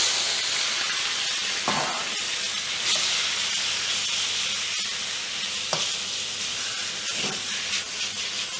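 Seasoned beef hits a very hot wok, a broad steady hiss and sizzle with occasional stirring scrapes and clacks, close and continuous with no talking.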